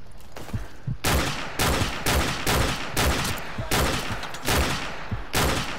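Gunfire in Call of Duty Modern Warfare Remastered: repeated loud bursts of automatic fire, roughly one every half second to second, close and punchy, with brief gaps between volleys.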